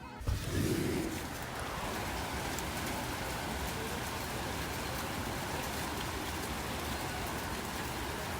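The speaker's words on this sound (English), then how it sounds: "Oh wow, it's raining outside. Hold up, you guys gotta hear this" Steady rain falls outside, a dense continuous hiss of drops on surfaces heard close and fairly loud, with a brief thump at the start and no talk.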